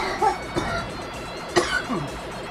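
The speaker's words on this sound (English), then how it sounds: "It's making me cough." A person coughs several times in short, rough bursts over ongoing background noise, fairly close and moderately loud.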